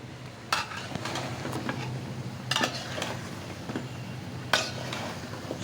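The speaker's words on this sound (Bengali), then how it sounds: "এখন কি করব, মশলার সাথে আমটা কষিয়ে নিব" Mango pieces are stirred with spices in a pan for pickle, with soft sizzling under a few sharp metal spoon scrapes and clinks against the pan.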